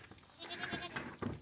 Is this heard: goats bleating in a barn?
yes